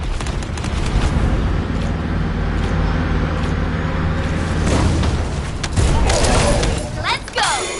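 Dense, loud barrage of booms and gunfire from air support laying down suppressing fire in a video game, sustained and rumbling throughout with heavier blasts near the end, partly under speech.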